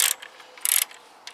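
Torque wrench ratcheting on the rear end of a Yamaha YBR 125 during reassembly, a few short raspy clicking bursts close by, with a louder run of clicks in the middle and quiet gaps between.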